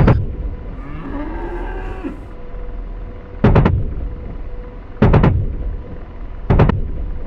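In the flight combat game DCS, a cow lets out a long moo, followed by three loud, evenly spaced booming blasts like cannon or rocket fire over a low engine hum, with no voices.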